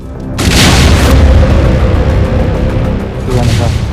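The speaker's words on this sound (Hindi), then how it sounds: "ड्रोन गिरते ही धमाके के साथ वहां भयंकर आग लग गई।" Heavy boom of a kamikaze drone striking near a French military base outside Erbil airport, a loud sustained roar of blast and burning that swells again near the end, with no talk.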